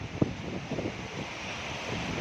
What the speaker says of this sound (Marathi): खूप वारा मोठा सुटला आहे